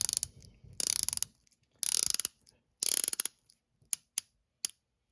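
Rapid ratcheting clicks from a rotating watch bezel come in three close, loud bursts, followed by a few isolated single clicks spaced apart, with no talking.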